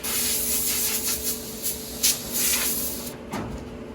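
A can of compressed air, running low, blows dust off a dryer lint tray in short hissing bursts, faint and close, with brief rustles in a quiet room.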